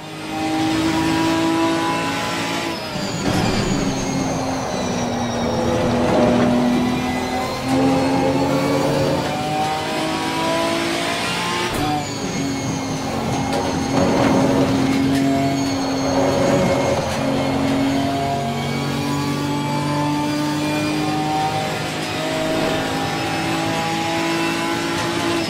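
A Ginetta GT4 race car engine in Assetto Corsa Competizione roars loud and close throughout, with rising revs, shifts and sustained high-pitched drone, alone without talk.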